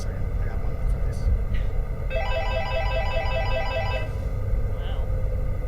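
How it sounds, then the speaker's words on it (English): Telephone ringing sound effect in a comedic tabletop role-play session, a trilling electronic ring repeating for about two seconds over a constant background rumble. "I press the button, and it's ringing"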